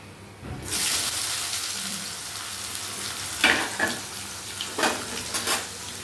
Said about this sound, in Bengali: পেঁয়াজটা দিয়ে ভেজে নেব